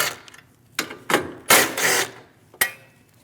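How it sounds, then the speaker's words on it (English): Two 10mm bolts being removed from the hood latch bracket of a Chevrolet Malibu, heard as several close, sharp bursts of ratcheting tool noise separated by short pauses. "Remove the two 10mm bolts on that hood latch bracket."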